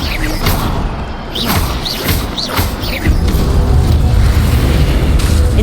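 Incendio fire spells cast in Hogwarts Legacy, repeated whooshing bursts and booming crackles in quick succession, loud and close, then a steady roaring rush.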